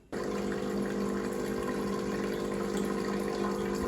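Water pouring steadily from a tap into a pot of sweet potato peels being cooked, starting abruptly and running as a continuous even gush close by.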